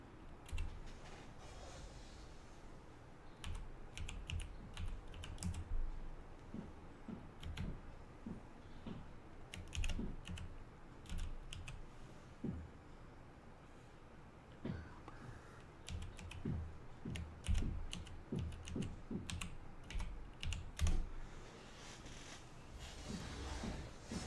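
Typing on a computer keyboard during a Marvel Heroes gaming session, a long run of quick, irregular key clicks and taps in bursts, close and quiet, with no talking.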